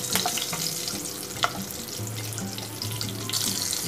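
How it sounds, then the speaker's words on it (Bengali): Green chillies and nigella seeds fry in hot oil in a pan, giving a steady close sizzle with a few small crackles and no talking. "এবার কাঁচা লঙ্কাটাকে একটু ভাজবো, এই কালো জিরে আর কাঁচা লঙ্কা।"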